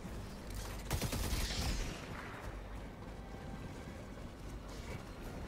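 Automated turret gunfire rattles through a Helldivers 2 battle, a dense burst of rapid shots and booms early on that fades into a rumbling, moderately distant barrage of combat noise.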